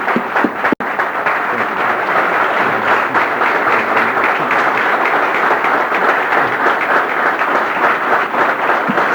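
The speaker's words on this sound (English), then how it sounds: "Let's bring on Brother Minister Farrakhan with a warm round of applause." Sustained audience applause welcoming Minister Farrakhan on stage, a dense, steady wash of many hands clapping at close range for the full length, with one sharp knock near the start and no talking.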